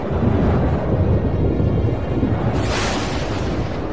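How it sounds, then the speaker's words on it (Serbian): Thunder rumbles low and steady beneath wind noise as a storm approaches open country, with a rushing gust surge near the end; no talking. "Ova. O, da. Ova oluja."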